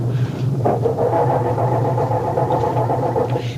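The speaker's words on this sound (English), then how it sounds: "It sounds like our culprits are having trouble starting Dennis's car." A car engine turns over without catching, a close, continuous mechanical churning for a few seconds in a staged radio mystery scene.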